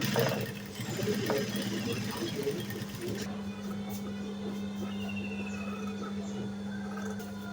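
Sewing machine stitching two shirt collar pieces together, a steady close mechanical whir and hum running through the whole stretch with faint handling noise at the start.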